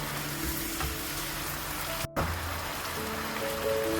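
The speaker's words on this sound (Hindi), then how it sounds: "बीफ हमारा फ्राई हो चुका है।" Beef sizzles and fries in a pan for beef karahi, a steady close crackling hiss that cuts out for a moment partway through before carrying on, with no voices.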